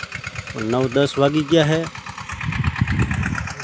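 A tractor engine idles with a low, rhythmic chugging that comes through clearly after someone speaks over its start.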